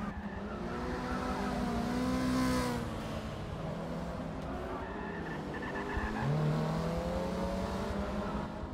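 A race car in Forza Motorsport 6 drifts on all four wheels at full throttle, its engine droning loud and steady while tires squeal in long rising and falling sweeps, with no voice over it.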